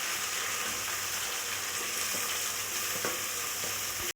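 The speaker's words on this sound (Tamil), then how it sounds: "இந்த அளவு வதங்கவும் வெங்காயம் போட்டுக்கலாம்." Sliced onions fry in hot oil in a pan for an egg biryani, a steady close sizzle throughout with a few soft scrapes and taps of a spoon stirring.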